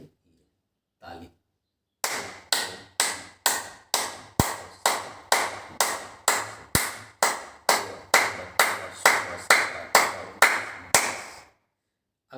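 Steady hand clapping performed while seated as a yoga exercise for senior citizens, about twenty sharp, evenly spaced claps in a brisk rhythm, close and loud, following a couple of faint taps.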